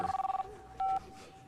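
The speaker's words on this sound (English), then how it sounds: "Don't get that, Frank. Could be your broker." A telephone rings with a rapid warbling electronic trill, then gives a second, shorter steady tone, heard indoors during a wedding scene.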